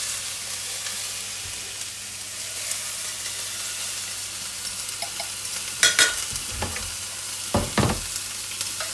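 Onions sizzle steadily in a hot saucepan for a mushroom chorizo risotto, with a few louder scraping stirs of a utensil toward the end.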